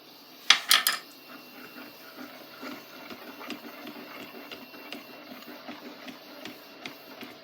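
A spoon mixes oil into drop scone (Scotch pancake) batter in a bowl: a few sharp clinks at the start, then soft, quiet scraping and tapping that carries on without speech.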